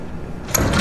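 A door opens in the video game Resident Evil 2 Remake, a sudden loud sliding creak and thud that breaks into quieter ambient game sound.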